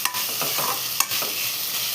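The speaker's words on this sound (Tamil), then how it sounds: "நல்லா மிக்ஸ் பண்ணி விடணும்." Fish puttu mixture being stirred in a frying pan with a spoon, close scraping and sizzling strokes repeating at a steady rhythm over continuous frying hiss, with no talking.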